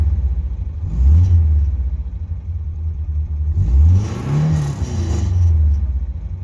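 A Toyota Corolla engine revs up and settles back in two or three rising bursts, its deep exhaust note rumbling loud and close.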